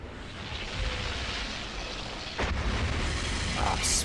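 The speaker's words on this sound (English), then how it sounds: "And now we get to watch the fireworks." Fireworks explode in the ending of the Fallout video game, a dense, continuous rumble of blasts and booms with sharper bursts near the middle and the end.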